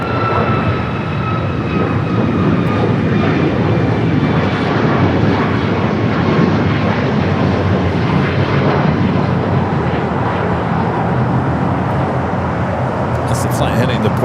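An airliner takes off from runway 25 right at LAX, its engines a loud, steady broadband roar that holds for the whole stretch, with faint tonal whine on top and a brief radio voice near the end.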